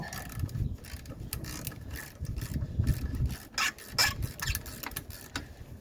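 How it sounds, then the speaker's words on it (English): Ratchet removing a nut from the rear suspension of a 2000 Kia Sportage, close uneven clicking and metallic rubbing in short bursts, with no talking. "use our ratchet to remove the nut"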